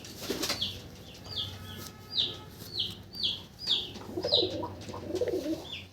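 Male pigeon cooing repeatedly at a pigeon farm, a steady series of soft rolling coos close by, with a brief flutter of wings near the start and faint rustling later.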